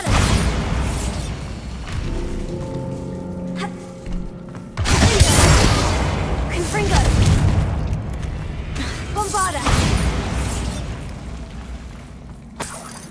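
Fire spell cast in Hogwarts Legacy, heard as loud booming whooshes and crackling bursts over a low rumbling bed, several swells across the stretch, with brief voice sounds mixed in.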